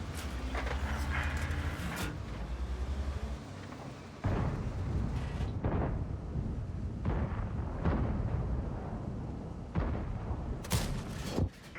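Tank cannon fire from the Progetto 65 in the World of Tanks video game: several deep, booming shots spaced seconds apart, with rumbling game ambience between them and no talk.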